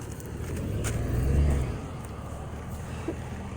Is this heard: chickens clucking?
no